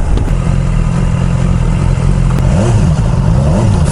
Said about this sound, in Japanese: 5000回転まではめっちゃ綺麗に吹き上がりますね。